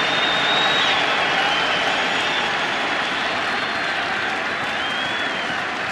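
A crowd at a 2009 World Series baseball game applauds steadily, with a loud, continuous roar of clapping and cheering throughout.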